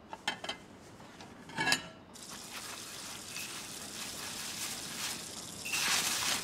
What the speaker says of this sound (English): I did the dishes fast.